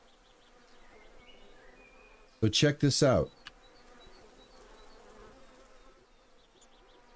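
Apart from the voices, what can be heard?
buzzing bees from the video game Farmer's Dynasty 2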